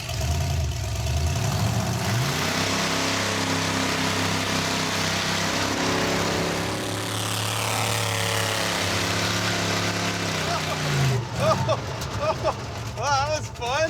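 Stubby Bob, a shortened project car, launches and accelerates down a drag strip, fishtailing as it goes. A loud engine roar builds steadily for several seconds, then gives way to scattered noise and faint voices at the end.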